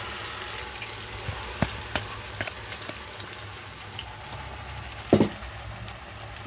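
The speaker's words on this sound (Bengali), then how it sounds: "পেঁয়াজটা পেঁয়াজ বাটাটা এখন ঢেলে দেবো।" Onion paste goes into a cooking pan with a soft, steady sizzling hiss, punctuated by light taps of a utensil and one louder clatter near the end.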